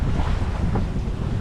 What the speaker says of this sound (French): Et il y a toujours de la houle.